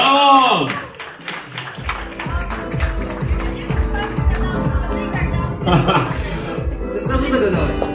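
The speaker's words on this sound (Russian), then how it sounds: "Аплодисменты!" Wedding hall applause as the bride and groom are awaited, with sound crew and duduk and violin players on hand: lively clapping under loud music and a voice.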